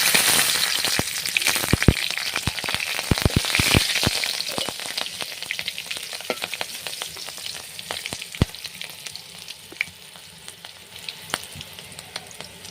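Nigella seeds and three slit green chillies sizzle and crackle in hot oil, a close, dense frying hiss with sharp pops scattered throughout, gradually thinning toward the end, no talk.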